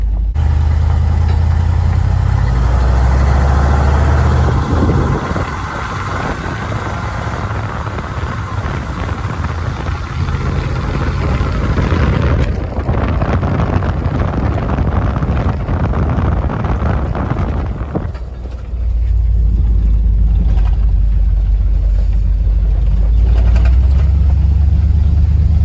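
A Toyota truck with a 6.0 engine drives along a dirt road, its steady low rumble running throughout with wind buffeting the microphone and a shift in engine tone partway through.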